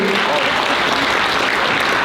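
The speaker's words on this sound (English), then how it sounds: "Round of applause for Lee." A round of applause at a Chinese club dinner, thanking a guest; dense, loud, continuous clapping from a crowd filling the whole moment, with a voice or two faintly mixed in.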